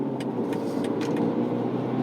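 A 2020 BMW M235i cruising on a freeway, steady engine and road drone heard from inside the cabin, continuous and fairly loud with no talking.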